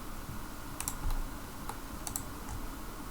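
Computer keyboard keys pressed in short clusters of quick taps while working in Blender, close and fairly quiet against a steady room hiss.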